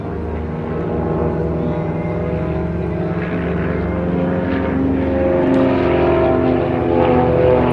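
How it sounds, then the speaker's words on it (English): Aerobatic display aircraft, among them an Xtremeair XA42, flying in close formation with a dissimilar high-wing partner at the Abingdon 2023 air show, giving a steady, loud propeller drone that swells slightly as they pass. "It's quite a challenge to fly close formation in these two dissimilar aircraft, one high wing, the other low wing."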